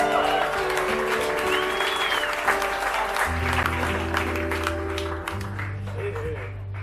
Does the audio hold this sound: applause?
yes